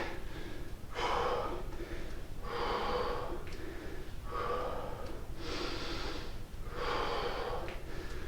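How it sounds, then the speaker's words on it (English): Heavy, rhythmic breathing from someone recovering mid-workout, a series of deep breathy inhales and exhales at regular intervals, close and fairly faint over a constant background hum. "Breathe, use this chance to get your breath back."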